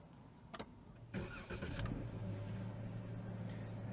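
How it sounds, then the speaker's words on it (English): A car engine cranks in short bursts, then fires and settles into a steady idle, heard close up from inside a vehicle in downtown Toronto. "Engine fired up."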